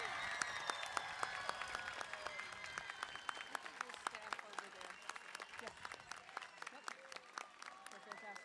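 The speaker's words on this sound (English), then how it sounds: "Can we get a giant round of applause for the SMS class of 2026?" An audience applauds the class of 2026 at a middle school promotion ceremony: dense, steady clapping from a large crowd carrying on for several seconds, moderately distant in a hall-like space.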